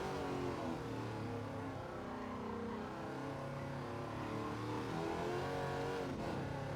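Race car engine of the Wicked Fabrication GT 51 in Gran Turismo 7 on the Grand Valley South track, a continuous droning whine that holds steady, shifting pitch slightly as the car slides through a corner, with no voices.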